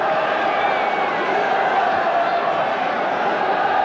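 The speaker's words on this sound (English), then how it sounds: "The crowd have enjoyed that." A football crowd at a 1982 Barnsley versus Derby County match roars after a shot, a loud, sustained wash of cheering and noise throughout. No clear voice stands apart from the crowd.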